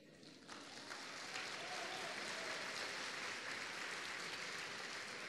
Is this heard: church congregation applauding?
yes